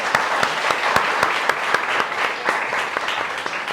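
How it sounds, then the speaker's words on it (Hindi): An audience at a screen acting master class in Mumbai claps steadily throughout, a dense sustained round of applause with occasional sharper individual claps standing out. "विनय सर के लिए आप ज़्यादा तालियां बजाना चाहिए"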